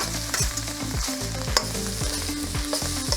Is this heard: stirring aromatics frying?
yes